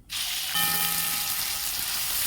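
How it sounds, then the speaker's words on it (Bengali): A sudden loud sizzle as ginger, garlic, green chillies and chopped onion hit hot oil, then a steady crackling fry that continues without talking. "মশলা ভাজা হচ্ছে"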